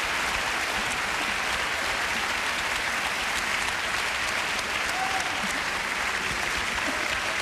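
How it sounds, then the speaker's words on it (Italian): A stage-show audience applauds the arrival of the maestro and composer Giovanni Allevi, a thick, sustained round of clapping that holds steady and loud for several seconds with faint crowd murmur beneath. "L'applauso del pubblico."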